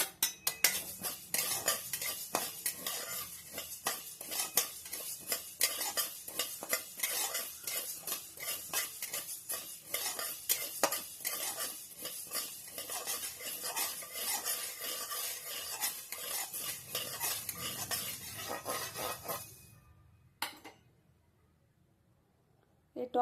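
Fenugreek and mustard seeds toasting in a pan, heard as a dense run of crackling, scraping and clinking as they are stirred, going quiet near the end with one last clink.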